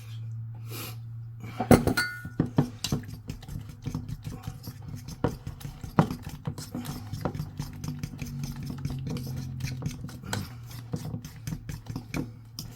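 A whisk clinks and scrapes steadily against a bowl while mixing eggs, vanilla extract and half-and-half into a light batter, quiet rapid taps continuing over a low hum.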